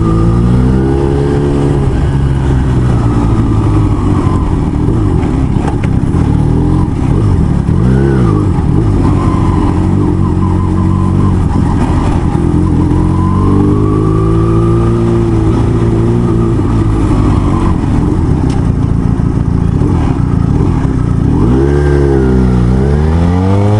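A motorcycle engine revs hard while being ridden through traffic under threatening rain. The loud, close engine drone rises and falls in repeated rev sweeps and runs steadily for the whole stretch, with no voices.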